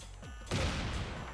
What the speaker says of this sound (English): It makes this ridiculous sound like an explosion. Like a hard hit.